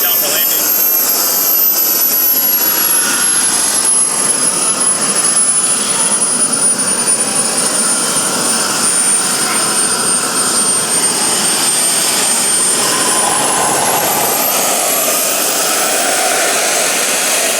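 A tiny motor in a custom build revs hard and continuously, a loud, harsh, whining roar like a helicopter taking off, with a high tone that drifts slowly throughout.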